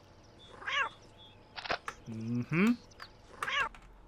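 Cats in the video game Postal 2 meow several times in short, clear bursts, including a longer drawn-out yowl, with a brief murmured voice from a player.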